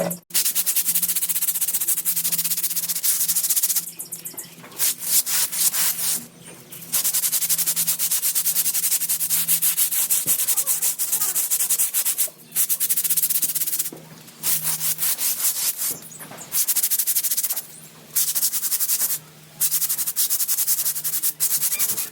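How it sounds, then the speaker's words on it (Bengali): Continuous hard scrubbing on the floor around a household water tap, rough rasping strokes repeated steadily for a long stretch with a few brief pauses, loud and close. "আর স্নান করার আগে কলের পাড়টা ঘষে ঘষে পরিষ্কার করি।"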